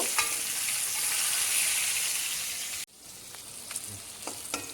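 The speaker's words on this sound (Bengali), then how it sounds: "মাছটা ভাজা হওয়ার সঙ্গে সঙ্গে আমি মাছটা উঠিয়ে নেব" Fish fries in oil in a pan, first a loud, dense sizzle that suddenly drops to a quieter crackle with occasional sharp spits and pops.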